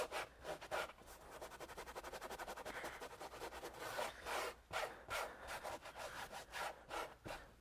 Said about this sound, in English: Do a little scrubbing.